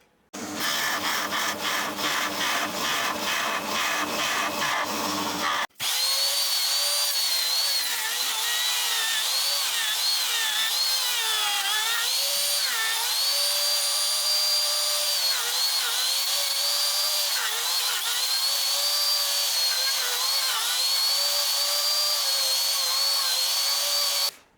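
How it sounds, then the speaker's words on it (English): Drilling into spalted wood for a hollow-body guitar with a power drill, a loud continuous whine with shifting pitch as the bit bites, running on for a long stretch after a brief rattling start. "Right, drilling montage."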